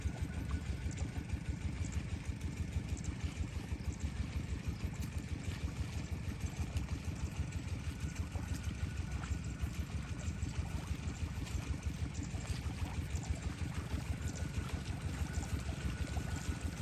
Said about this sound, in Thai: ต้องสูบน้ำต่อไป